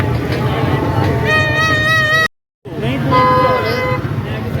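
Car horns toot repeatedly on a busy street during an Independence Day outing as another flag-decorated vehicle arrives, loud and close amid crowd babble, with a brief silent gap before more honking.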